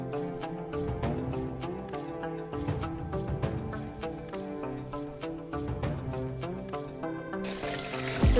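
Cold clean water from a natural village spring in Pauri Garhwal pours and splashes steadily, a continuous close trickling stream with bubbling, running alone throughout.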